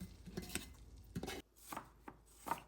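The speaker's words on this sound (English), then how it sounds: "I like to snip them so that they're easier to manage later on." Kitchen scissors snip sheets of dried seaweed into pieces for spring rolls, producing several faint, quick, crisp cuts in an irregular rhythm close by, with no voices.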